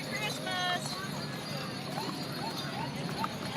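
Horses' hooves clip-clop along the street in a Cullman County Christmas parade, steady and moderately near, over the murmur of a crowd of onlookers.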